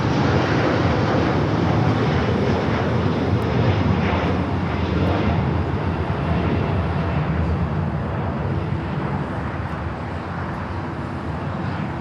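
Airliner departing Los Angeles International, a loud sustained broadband jet roar holding steady throughout and fading only slightly at the end, with no voices.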